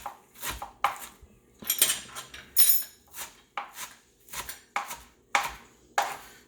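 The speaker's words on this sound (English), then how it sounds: "Let's go ahead and start the chopping." A knife strikes a cutting board in a dozen or so separate, sharp knocks at an uneven but steady pace, close and clear with quiet gaps between.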